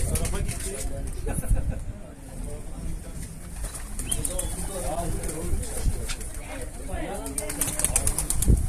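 A pigeon that escaped its coop flaps and takes off near a rooftop, with fluttering wingbeats and soft cooing amid outdoor background noise, while people talk excitedly close by through most of it.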